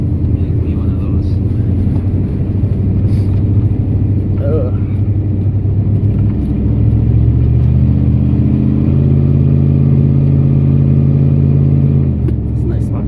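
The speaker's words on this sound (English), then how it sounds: "I wonder how loud my truck's gonna be in the video." A truck engine runs loud and close with a steady low drone, its pitch climbing and falling as it revs in stages, with no talk over it.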